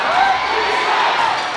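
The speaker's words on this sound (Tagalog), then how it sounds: "At nakita niyo ang crowd. Talaga namang napahiyaw." Crowd at a basketball game cheering and shouting loudly after a dunk, a dense, continuous roar of many voices that stays near and loud.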